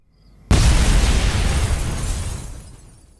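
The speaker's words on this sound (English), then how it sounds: "Big explosion." A video game explosion effect in Jackbox hits with a sudden loud boom, then a broad roaring rumble that slowly decays over a few seconds, heard alone with no talking.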